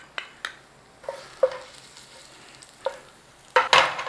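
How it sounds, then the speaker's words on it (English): Garlic sizzles in a hot pan with leftover chicken drippings while preparing chicken francese in lemon butter sauce, a steady frying hiss broken by several sharp clinks and scrapes of a utensil, loudest near the end, with no talk. "Nice little sizzle whizzle in there"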